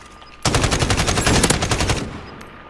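A burst of rapid automatic AK-47 fire in a shooting video game, a loud, dense string of sharp shots lasting about a second and a half, then ending abruptly into quiet game ambience.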